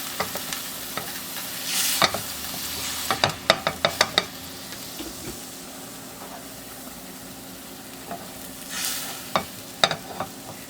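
Onion and garlic drippings scraped from a hot pan for mujaddara, a low sizzle broken by bursts of quick scraping and clacking strokes, close and alone.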